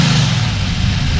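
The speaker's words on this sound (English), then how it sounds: "I do love the sound of a little Chevy small block" A 1968 Chevrolet Camaro with a tight small-block V8 (not a stock 350) revs steadily and close, a loud continuous low engine rumble with no talk over it.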